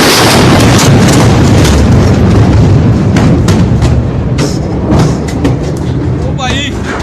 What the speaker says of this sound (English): an initial explosion, which had a lot of cameras pointed in the direction of the billowing smoke and then the gigantic explosion